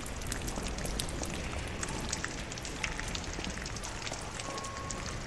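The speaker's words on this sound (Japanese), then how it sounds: "雨の夜。" Steady rainfall on a night scene at a train station in the game Lies of P, a dense, even patter of drops hitting surfaces throughout, with no voices.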